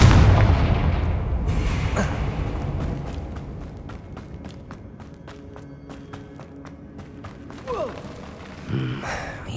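A Confringo blasting spell explodes in Hogwarts Legacy with a loud opening boom, then a long fading rumble scattered with crackling debris and footsteps, and a couple of smaller bursts near the end.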